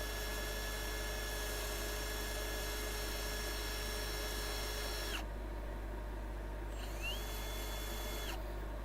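Steady high whine of a spinning lathe with abrasive sanding against turned wood, continuous for about five seconds before cutting off, then a short burst of the motor spinning back up and stopping again; no talking.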